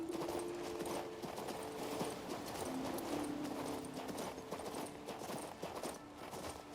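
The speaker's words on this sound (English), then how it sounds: "I'm going to summon my horse" Steady clip-clop of horse hooves at a walking pace in the video game King's Bounty II, fairly quiet, with a low background hum and faint game-like ambience.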